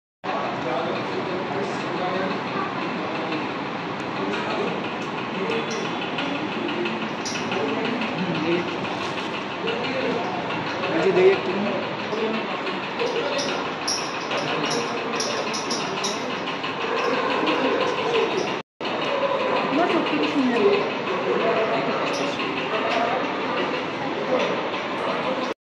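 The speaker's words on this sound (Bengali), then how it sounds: "ট্রেন এসে গেছে" A train pulls into a rain-wet station, a loud continuous rumble and rattle of railcars from nearby, with voices mixed in under the noise.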